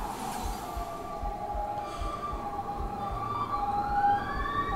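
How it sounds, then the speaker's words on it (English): Emergency sirens wail outside, rising and falling in steady sweeps at a moderate distance over a low, constant background rumble, with no voices. "there's sirens outside which are stealing my distraction"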